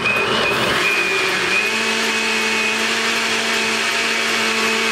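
Blender whirring steadily as it mixes an avocado smoothie with honey syrup, a loud continuous motor whine that shifts pitch slightly early on, with no voices.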